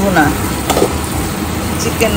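Chicken being sautéed in a pan with a loud, continuous sizzle up close and a few sharp stirring clatters over it.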